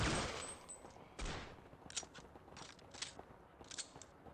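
Gunfire from Counter Strike on the original Xbox: a burst of rapid shots opens, then several more spaced cracks follow, heard faintly through the game audio.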